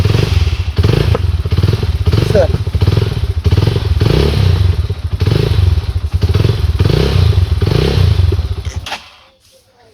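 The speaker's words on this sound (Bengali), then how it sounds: "তো সুইচটা চাপ দিয়ে এখন বাইকটা আমি স্টার্ট দিয়ে আপনাদেরকে দেখাই।" A Yamaha R15 V3 motorcycle runs loud and close after being started, its idle a steady thumping, clattering throb that cuts off near the end; someone speaks briefly.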